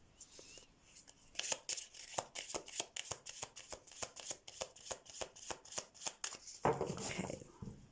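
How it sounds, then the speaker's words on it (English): Tarot cards riffle and snap in a quick, regular rhythm of shuffles, close and crisp, with a brief rustle near the end. "While I'm shuffling the cards"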